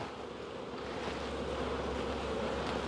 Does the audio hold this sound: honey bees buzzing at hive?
yes